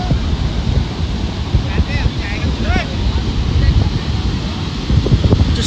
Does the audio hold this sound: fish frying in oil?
no